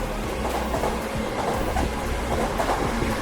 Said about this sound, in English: And there it goes, the Yamanote Line.